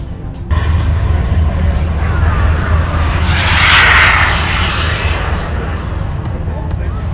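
A radio-controlled model aircraft with a diesel-fuelled turbine engine of 19 pounds of thrust roars past at an airshow, a loud sustained whine that swells and fades over crowd noise.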